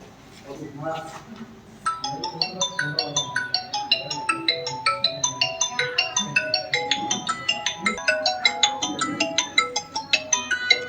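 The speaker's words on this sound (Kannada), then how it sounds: "ಫೋನ್ ಎತ್ತರ ಸರ್ ಫೋನ್ ಎತ್ತರ" A phone ringtone plays a bright, repeating chime melody in steady pulses for most of the clip, loud and close, with voices and room noise underneath.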